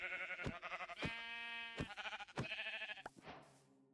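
Sheep in Minecraft bleat in a few short, wavering cries that repeat at a steady pace, close and clear, with no other sound around them.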